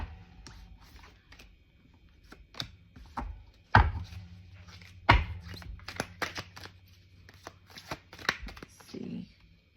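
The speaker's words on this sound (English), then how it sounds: "So I really wanted to pre-shuffle off camera, but I like shuffling it on camera" Cards shuffled by hand nearby, a run of crisp riffles and taps with a couple of louder slaps, while someone talks softly between them.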